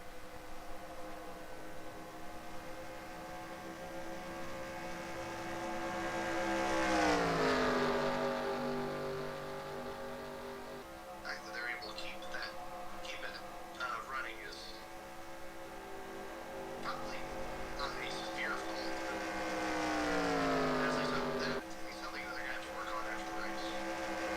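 Race car engines in an ARCA Remax Series racing video game hum with a steady tonal drone that swells and dips in pitch as cars pass and slow, while commentators talk over them throughout.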